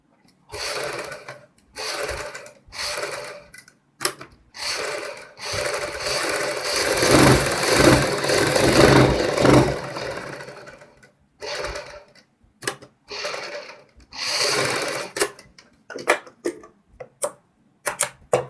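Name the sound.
sewing machine stitching fabric along buckram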